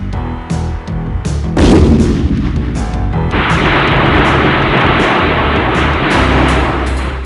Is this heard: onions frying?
no